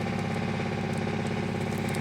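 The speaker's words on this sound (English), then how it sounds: "And we have tractor soundtrack." A tractor engine idles steadily nearby with a constant low, throbbing hum and vibration, no talk over it.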